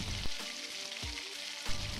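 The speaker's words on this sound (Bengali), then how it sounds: "একই তেলে দিয়ে দেব পেঁয়াজ কুচি" Chopped onion sizzles in the same hot oil used for frying prawns, a steady near crackle with a few dull knocks from the pan.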